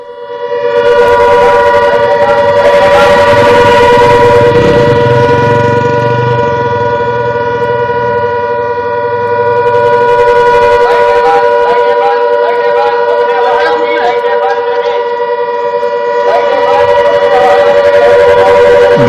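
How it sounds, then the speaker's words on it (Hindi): A loud, sustained air-raid warning siren in Barmer, India, wails steadily with a few tonal swells, close and dominant, with faint background voices beneath it. "सायरन की आवाज आप सुनिए"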